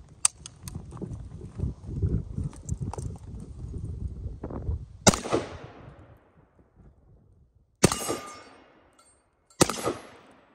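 A Zastava Arms Z-PAP M70 AK-47 rifle in 7.62x39 fires three loud, sharp shots outdoors, each with a ringing decay, preceded by several seconds of shuffling and clattering handling noise.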